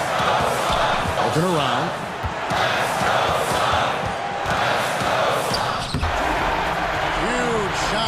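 A crowd roars and cheers after a big shot at a mixed-conference Cyber Cup match, a loud continuous din that fills the whole stretch while an excited commentator talks over it.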